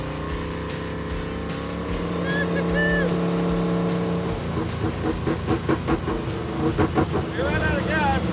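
A race truck engine revs hard against the rev limiter, with a sustained loud drone breaking into rapid stuttering pulses as the limiter cuts in. Voices can be heard over the engine.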